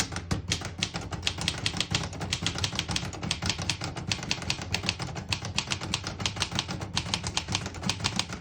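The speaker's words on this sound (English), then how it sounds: "I'll type a sentence on this next line." Rapid, steady clacking of a 1938 Remington Remette vintage portable typewriter, keystrokes striking one after another in a continuous run, close and fairly loud with no talking.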